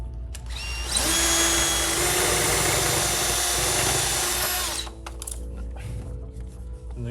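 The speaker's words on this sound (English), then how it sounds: "you can go ahead and pre-drill your hole for your shoe" A power drill pre-drills a hole for a pilaster shoe during a restroom partition install, giving one loud, steady whine of about four seconds that stops abruptly, with quieter room noise before and after.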